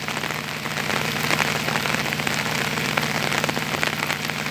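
Heavy rain pours down beside the São Francisco river, a loud, unbroken hiss of drops hitting surfaces, close and steady, with no one speaking.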